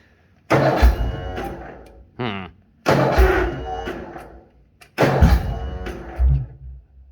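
A Bolens HT-23 garden tractor engine cranks cold in -40 weather in three rough, noisy bursts of a couple of seconds each, with thumping pulses, kickback and short pauses between attempts.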